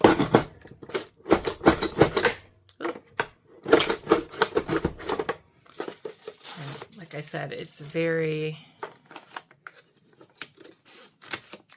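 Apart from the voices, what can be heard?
scissors cutting faux leather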